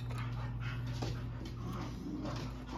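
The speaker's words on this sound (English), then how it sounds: "My dogs are going nuts." Dogs whimper and bark in a room, with high whines and short yips over a constant low electrical hum, fairly loud throughout, with no talking.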